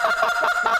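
Goose call imitating an excited flock of Canada geese, a continuous loud run of overlapping honks with no pauses, close and alone.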